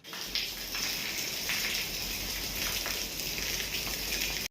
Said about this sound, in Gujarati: અત્યારમાં આવ્યો છે વરસાદ